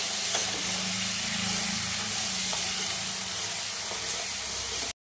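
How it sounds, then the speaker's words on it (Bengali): Masala spices frying in a pan while being stirred, a steady, moderately quiet sizzle with a few faint utensil taps, continuous and close, ending abruptly. "দেখুন মশলাটা ভালো করে কষিয়ে নিচ্ছি"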